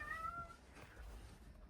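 A pet cat gives one short, fairly faint meow at the start, rising then falling, followed by a quiet room with low background hum.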